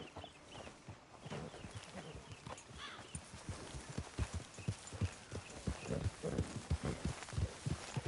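Horse hooves clip-clop steadily at a walking pace in the Red Dead Redemption 2 video game, a continuous rhythmic series of close hoof falls over a low ambient background.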